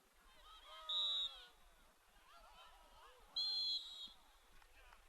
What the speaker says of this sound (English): And a whistle and a stoppage of play off the face-off.